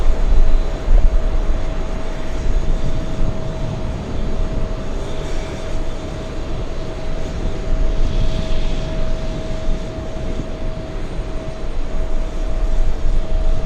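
A jet aircraft taxis toward runway 31 left for an intersection takeoff at a busy airport, a steady loud engine roar and whine that holds throughout with a constant high tone running beneath.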